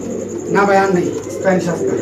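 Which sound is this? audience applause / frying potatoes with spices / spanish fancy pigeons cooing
spanish fancy pigeons cooing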